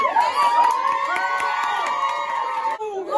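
Cast members cheer loudly at an opening night for a stage production, a dense burst of high shouting and whooping voices that carries steadily throughout and drops briefly near the end.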